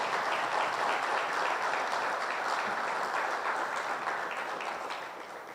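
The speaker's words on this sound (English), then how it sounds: "And you all give them a round of applause." A full round of applause from an audience at a nursing professionals' orientation ceremony, steady and fairly distant, tapering off slightly toward the end.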